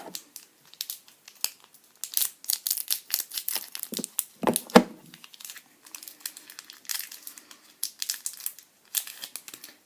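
Plastic and paper packaging around an electronic cigarette crinkles and tears by hand up close, a long run of irregular crackly rustles and rips with a brief louder clatter midway.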